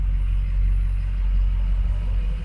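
Old 6-liter truck engine rumbling low and steady near a drag strip burnout box, a deep close idle without revving.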